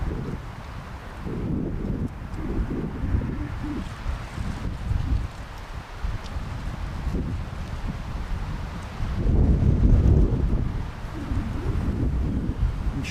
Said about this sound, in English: I'm sure you can hear how windy it is now.